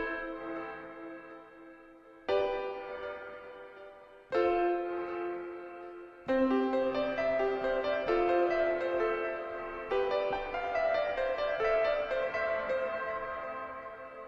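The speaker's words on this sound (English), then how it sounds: "They have these reversed like reverb things going on." Heaviosity Kontakt piano library playing sustained, reverb-washed notes with reversed reverb swells, several chords struck in turn and left ringing, with no voices present.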